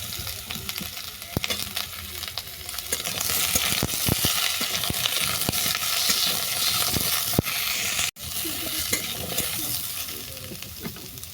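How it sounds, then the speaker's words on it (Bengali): Potato, raw plantain, ridge gourd and papaya sizzle steadily in hot oil in a pan while a utensil scrapes and stirs them, with scattered sharp clicks over a continuous loud hiss. "সবজিগুলো নেড়ে চেড়ে দিলাম"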